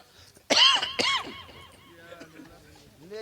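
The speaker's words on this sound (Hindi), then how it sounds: "खांसी उठ रही, पता है" Two sharp, loud coughs come close together near the start, followed by quieter throat sounds and breathy vocal noise trailing off.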